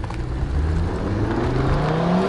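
A 500 hp stage 2 Audi RS3 with a Milltek exhaust accelerating hard, heard from inside the car as a loud, continuous engine drone that climbs steadily in pitch through the gear.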